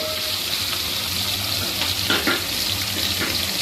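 Sliced large onions sautéing in a pan for prawn curry, a dense continuous sizzle and hiss with a few faint stirring scrapes, with no talk over it.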